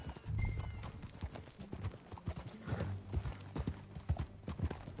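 Steady clip-clop of horse hooves trotting at an even pace in the video game Red Dead Redemption 2, fairly close, with a brief whinny near the start.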